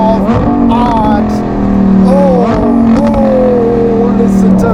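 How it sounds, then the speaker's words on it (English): Lamborghini Huracan Tecnica with a 5.2-litre naturally aspirated V10 and Novitec exhaust, revving loudly and continuously with rising and falling engine pitch, a voice speaking over it at times. "Oh, listen to that. I'm fitted with our exhaust system."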